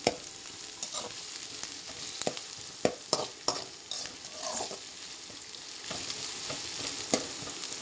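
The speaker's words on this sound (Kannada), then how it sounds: "ಈರುಳ್ಳಿ ಯಾವ ಥರ ಚುರ್ರಂತ ರೋಸ್ಟ್ ಆಗ್ತಾ ಇದೆ" Onions fry in hot oil for a chicken fry dish, sizzling steadily at close range while a spoon scrapes and clacks against the pan in irregular stirring strokes.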